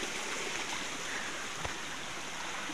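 A small waterfall pours into a flowing stream along a garden path, a steady broadband rush of water, near and constant, with no talking.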